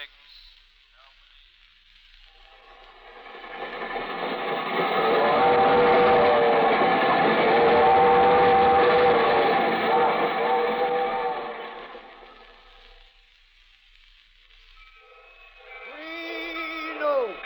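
A train rumbles past in a radio drama sound effect, rising to a loud roar and then fading away, with a short whistle-like tone near the end.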